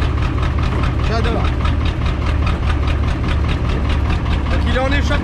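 A truck engine idles with a straight, open exhaust widened from 80 to 110 mm diameter, running directly from the engine; the low, steady rumble stays loud and continuous throughout, with some faint background sounds over it.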